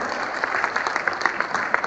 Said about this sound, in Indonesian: sekali lagi beri tepuk tangan yang paling meriah untuk ketiga pembicara kita